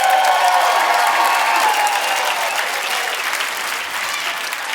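A crowd claps steadily and loudly throughout, sustained applause that fades slightly toward the end.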